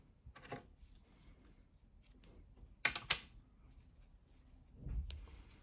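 Scissors snip through knitting yarn after a sleeve is finished, giving a couple of sharp, close clicks around the middle of a quiet stretch with faint handling noise.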